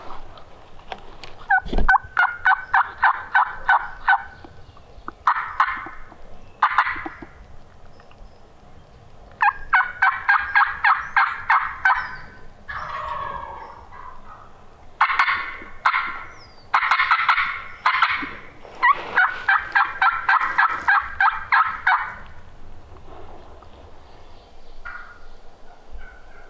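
A wild turkey hen on public land calls in repeated bursts of rapid yelps and clucks, fairly close and clear, with pauses between series and no talk.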